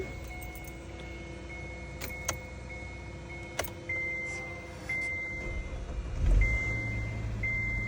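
A Kia car with a failing battery sits through a few faint clicks and a low hum, then its engine catches near the end with a brief rumbling surge, heard up close with no voices.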